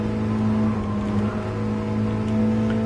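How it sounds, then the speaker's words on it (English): Race car engine pulling hard in fourth gear at about 90 mph in the racing game GT Sport, a steady, loud drone with a strong tonal hum, running alone without talk. "we're powering up to the line, fucking mighty 4th gear, 90 miles an hour"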